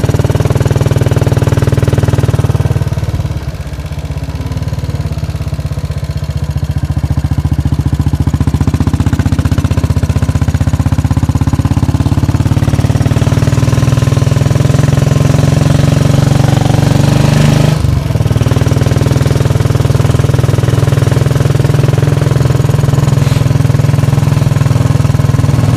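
Motorcycle engine running loud and near with a steady low drone as a rider sets off from a Sunday bike club gathering, with a brief dip in the middle and a sharp knock later.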